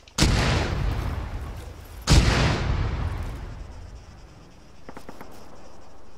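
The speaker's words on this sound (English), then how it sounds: "Take cover. Artillery inbound. Damn. Mortars." Incoming mortar artillery fire in Arma 3: two loud, close explosive blasts about two seconds apart, each followed by a long rumbling decay, and then quieter faint crackles and distant pops.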